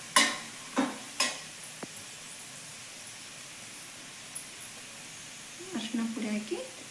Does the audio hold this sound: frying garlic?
yes